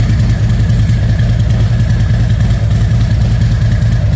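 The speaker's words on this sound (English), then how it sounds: "So let's go turn on the bike." Motorcycle engine idling steadily after starting, a loud, close, continuous low rumble with an even rhythmic thrum and faint mechanical clatter, with no talk over it.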